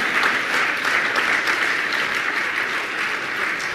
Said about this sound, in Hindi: मैं चाहूंगा इनके सम्मान के लिए जोरदार तालियां तो बजाएं आप।